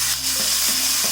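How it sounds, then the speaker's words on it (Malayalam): Ginger, garlic and green chili paste sizzles steadily in a hot pan as it is stirred, a dense close frying hiss with soft scraping, no voices. "അതിട്ടിട്ട് വഴറ്റി കൊടുക്കാം"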